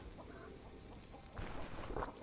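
Chickens cluck in a coop in the video game Stone Shard, a run of soft, close clucks that gets louder and busier toward the end, with no talking.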